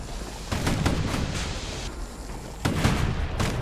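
Guns on a security skiff firing in Bastion: a rapid volley of loud, punchy shots in two clusters separated by a lull, over a steady rumbling background.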